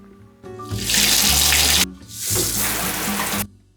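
Shower water running in a bathroom during a morning routine, a loud steady hiss that rises, cuts off briefly, then gushes again before stopping.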